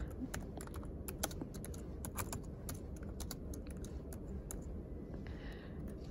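Typing on a computer keyboard, a quiet run of quick key clicks in uneven bursts close by over a steady low background hum, with no voices.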